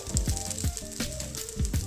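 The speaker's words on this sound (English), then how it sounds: "now you can hear it sizzling and popping" Fried rice sizzles and crackles steadily in a hot pan, with soft scraping stirs at irregular intervals.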